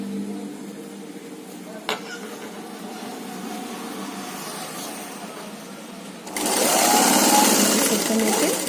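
A domestic sewing machine runs steadily as it stitches a frill pillow cover, its motor growing noticeably louder for the final few seconds, with a voice talking over the whirring.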